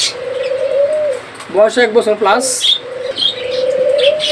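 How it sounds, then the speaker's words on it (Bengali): A pair of breeding doves gives low, steady coos, close by, before and after a short stretch of talk in the middle. "এখানে রয়েছে আরো জোড়া ঘুঘু পাখি দেখতে পাচ্ছেন"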